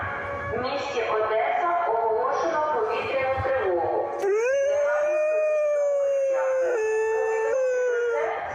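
A dog howls in long, drawn-out wavering notes, close and loud, the howl rising and sustaining for several seconds.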